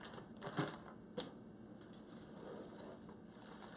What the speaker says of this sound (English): So now I'm going to zip tie these to the wreath.